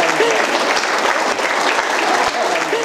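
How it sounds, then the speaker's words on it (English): Wedding guests at a ceremony burst into applause right after the vows, with close, dense clapping held at a steady, loud level across the whole stretch. "Round of applause, folks."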